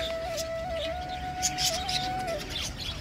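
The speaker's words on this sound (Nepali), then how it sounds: "अरे बडजेरिक टन्नै छ नि सानसानो चराहरू भित्र" Budgerigars chirp and chatter continuously, with a steady high warbling tone running through a busy, nearby flock in a zoo enclosure.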